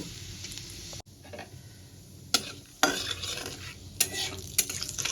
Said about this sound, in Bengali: তেলটা আমার গরম হয়ে গেছে, এবার আমি ফোড়নে দিয়ে দেব গোটা জিরে আর 2টো তেজপাতা।